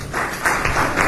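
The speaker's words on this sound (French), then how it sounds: "Je crois qu'on pourrait applaudir plus fort pour Monsieur le ministre." Crowd applause after a minister's speech at a public event in Tsévié, Togo, a dense, steady clatter of many hands for about a second, loud and close.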